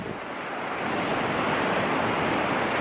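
Waves roll and wind gusts at the Baltic seaside in winter, a dense, loud, continuous wash of surf that swells slightly and stays steady, with no voices.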